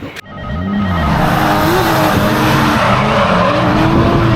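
At a drift event in Japan, a drift car's tires squeal loudly and continuously as the engine roars close by, a sustained screech with wavering pitch.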